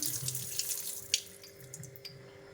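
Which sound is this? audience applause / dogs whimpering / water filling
water filling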